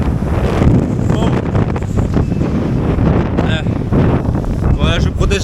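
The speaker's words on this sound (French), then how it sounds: "Il y a beaucoup de vent." Strong wind buffets a microphone outdoors at a monument in Vietnam, a loud, continuous rumbling roar with bursts of gusting; voices can be heard faintly underneath.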